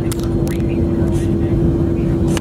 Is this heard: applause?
no